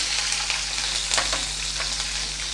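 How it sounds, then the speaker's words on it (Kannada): Mustard seeds frying in hot oil for a spicy paper-thin poha dish: a steady, close crackling sizzle with scattered sharp pops, continuous throughout and with no talking. "ಇದು ಸಾಸಿವೆ ಹಾಕ್ಕೊತಾ ಇದ್ದೀನಿ ಫಸ್ಟಿಗೆ ಸಾಸಿವೆ"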